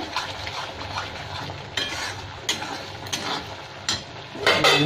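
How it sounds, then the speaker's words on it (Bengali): Paneer pieces are dropped into frying masala in a pan, giving soft sizzling under a series of sharp clanks and scrapes from a utensil against the pan, irregularly spaced and close by. "জলের থেকে পনিরগুলো সব তুলে দিয়ে দিলাম"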